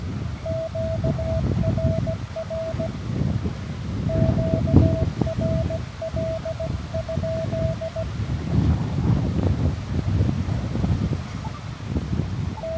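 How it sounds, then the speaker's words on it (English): Wind gusts buffet a microphone outdoors at California Citrus State Historical Park, a continuous low rumbling roar rising and falling, with a faint intermittent beeping tone in the background. "And here comes the wind again."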